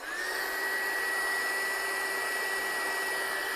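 Close, continuous whirr of a dryer blowing across a handmade watercolour card to dry the ink, a steady airy rush with a thin high whine, uninterrupted and with no voices.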